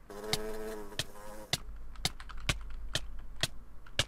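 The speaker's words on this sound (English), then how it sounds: "Buzzy is a wasp" A wasp in a video game drones with a raspy buzz for the first second and a half, then sharp, regular clicking taps continue over a faint hum.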